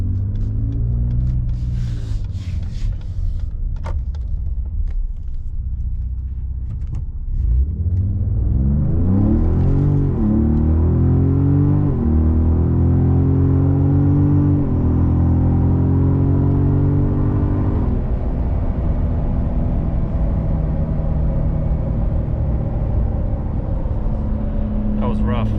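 A tuned 2018 Ford Raptor pulls out into traffic and accelerates hard, its engine rising in a loud, swelling rev with shifting pitch under steady road rumble.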